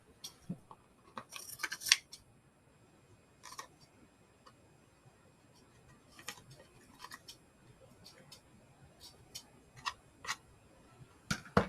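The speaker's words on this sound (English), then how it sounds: "I think I may actually cut some of that off." Scissors snip through paper while trimming a handmade Christmas journaling card, a few quiet, close cuts in short clusters separated by pauses, with no talking.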